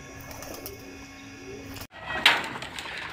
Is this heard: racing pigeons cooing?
yes